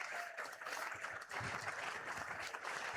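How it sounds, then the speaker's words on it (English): Crowd applause at a basketball grand final, honouring the old boys team, a steady dense wash of clapping hands sustained for a few seconds at moderate distance with no voices on top. "That deserves a round of applause."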